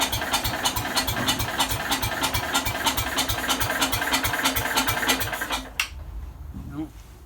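A Jacobsen mower's engine cranks and fires unevenly after a shot of starting fluid, a loud rapid chugging that runs for several seconds, then cuts out abruptly, leaving a brief faint rattle.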